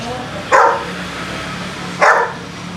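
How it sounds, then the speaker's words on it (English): A dog gives two sharp, loud barks about a second and a half apart, close by over a low background murmur. "this dog is just pissing me off."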